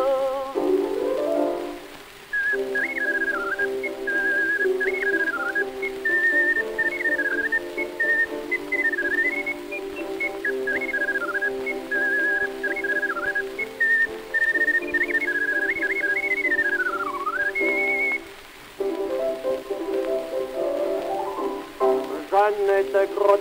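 An ocarina plays a bright, whistling melody with quick ornamented runs and slides, close and clear over a crackly early-1900s recording, with a short break before the tune resumes.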